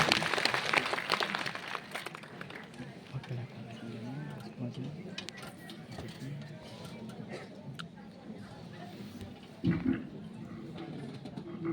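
Crowd applause at a district administration event in Dungarpur, Rajasthan, honoring MLA Rajkumar Roat; a dense, steady wash of clapping runs throughout under a speaker's voice, with a brief louder burst near the end.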